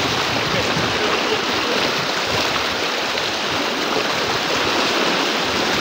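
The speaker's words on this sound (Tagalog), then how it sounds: "Yan po, malakas ang agos." A strong river current rushes over rocks at a crossing, a loud, steady, broadband roar that stays close and continuous throughout.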